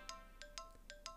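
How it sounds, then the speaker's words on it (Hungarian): A Tamagotchi notification, a quick series of five electronic beeps in a short regular pattern, faint and alone with no talk. "Értesítés jön a Tamagocsira."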